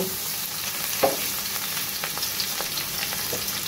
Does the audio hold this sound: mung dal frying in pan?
yes